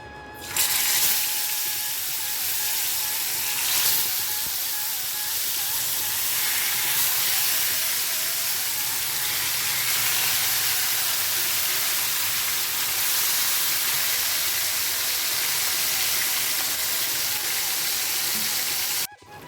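Continuous loud sizzling hiss of marinated bhetki fish frying in hot oil, steady and close, with no talking.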